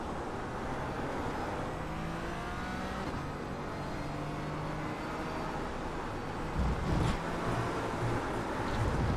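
A GT4 race car engine in a racing video game at wet Algarve hums and whines steadily as it drives, with shifting pitch and a louder surge near the end, all without talk.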